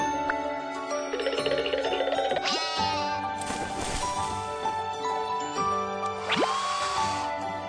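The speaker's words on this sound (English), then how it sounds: "Sheep." Sheep bleat several times, loud and close, with a light jingling chime and musical tones around the calls.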